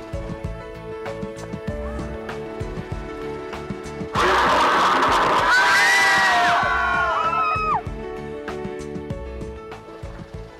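A cinema audience shrieks and shouts in fright in a sudden loud burst that lasts a few seconds, with high screams over the crowd, while music plays underneath.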